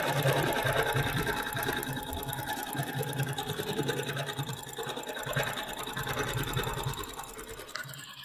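An embroidery machine stitches a single-stitch quilting design, its fast, even mechanical clatter and hum running continuously and loudly throughout.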